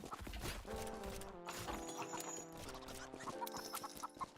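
Clucking, squawking chicken sounds fire from a chicken gun in an indie video game, busy and layered over clip-clop effects and game music.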